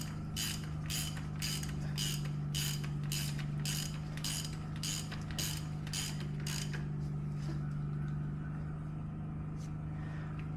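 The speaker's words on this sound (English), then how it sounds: "Ratchet. Got a 16 millimeter." A ratchet wrench fitted with a 16 mm socket clicks in a fast, steady run of sharp ratcheting bursts during a GM 3.6 LFX timing chain install, close up. The clicking stops near the end and a low engine-bay hum carries on underneath.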